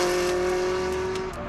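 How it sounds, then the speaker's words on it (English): A Ferrari Enzo's V12 engine while driving in Italy, a loud, steady drone with a sustained tonal whine held for over a second before easing slightly, heard close and without talk. "when you're in an Enzo, it's a V12. That's a Ferrari engine."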